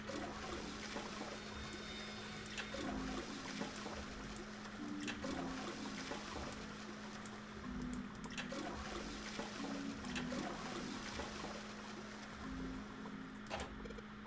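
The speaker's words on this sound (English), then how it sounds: "I heard a loud flushing noise." A toilet flushes in the video game Zero Escape, a long, steady rushing gush of water that runs throughout, fairly faint and alone with no talk.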